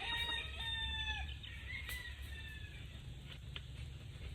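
Newly harvested stags (young roosters) make nervous clucks and short squawking calls over a steady low background rumble, with a few sharp calls early on and softer clucking afterward.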